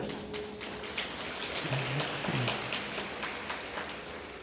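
Scattered, light clapping from an audience at a Ramayana discourse, a thin patter of hands that continues evenly without building.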